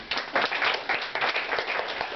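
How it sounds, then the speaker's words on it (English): A concert audience claps along in time, a rhythmic series of close, bright handclaps over a short stretch. "Don't stop clapping your hands."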